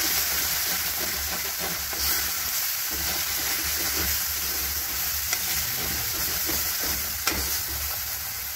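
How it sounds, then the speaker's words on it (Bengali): Chicken and potato pieces stirred with turmeric in a hot pan for a spicy chicken curry, giving a constant loud sizzle and hiss with scraping strokes of a spatula, close up and with no talking. "হলুদ দিয়ে দেওয়ার পর এটাকে ভালো করে নাড়ি চাড়িয়ে নিতে হবে"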